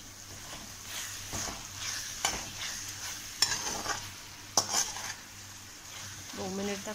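Sabudana khichdi being stirred in a frying pan, a spoon scraping and clinking against the pan in soft irregular strokes over a low sizzle, with two sharper knocks.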